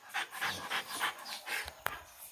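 A pit bull puppy panting close by in quick, regular breaths, with a brief sharp click near the end.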